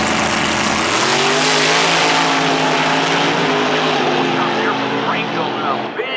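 A drag racing car, a Dodge Viper making a pass at Maryland International Raceway, roars loudly off the launch with a rising engine note, under an announcer's commentary.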